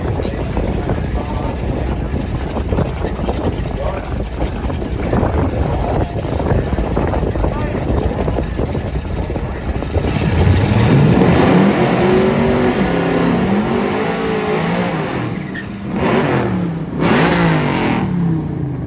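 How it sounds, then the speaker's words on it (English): Two drag cars, a Camaro and a Dodge Dart, race in the Street Machine Eliminator final at Hot Rod Drag Week: a loud, steady engine roar that swells into rising, accelerating revs as the cars launch and pull away. "Final round of Street Machine Eliminator. Camaro and a Dart."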